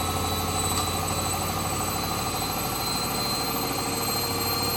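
A Hoover Wizard washer dryer spins wet clothes at high speed, a loud, steady motor whine with layered mechanical hum and vibration holding constant up close, no voices.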